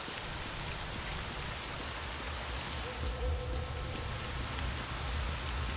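Steady rain in the video game STALKER hisses evenly throughout, a dense wash of falling drops with no pauses, close and constant.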